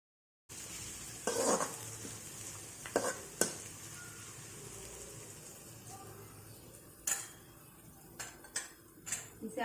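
Small chopped onions sizzle steadily in a pan for pav bhaji, with a spoon clattering and scraping against the metal in a few sharp bursts over the soft, continuous frying.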